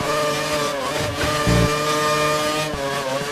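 Race car engine held at high revs in a GP2 racing video game at Korea, a steady loud harmonic whine with brief dips and gear-change shifts, no talk.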